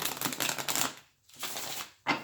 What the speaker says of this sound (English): I am going to do just one little quick shuffle here.